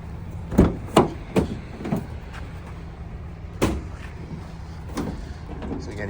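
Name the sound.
sliding doors of a 2017 Ford Transit Connect van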